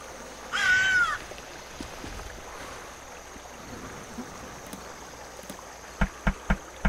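A crow in The Night of the Rabbit video game gives one loud, close caw near the start, followed by a soft watery ambience and a few sharp clicks near the end.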